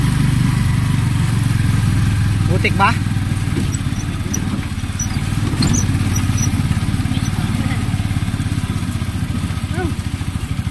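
A motor tricycle engine drones steadily while riding in Mulanay, Quezon, Philippines, loud and close, with a person speaking briefly in Tagalog over it.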